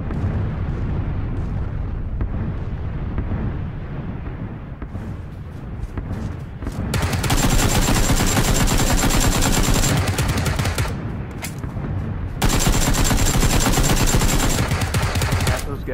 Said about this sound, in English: Automatic fire, freak them all out.